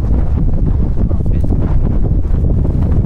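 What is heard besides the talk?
strong wind at sea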